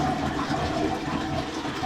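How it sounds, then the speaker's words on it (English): A toilet flushes just after being unclogged, a steady close rush of water filling the bowl for a couple of seconds with no talk. "So if you want to flush it, you can see."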